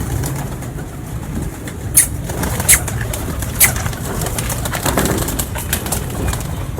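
Breeder pigeons in a loft, soft cooing over steady background hiss, with three brief sharp flapping sounds and faint bursts of wing noise.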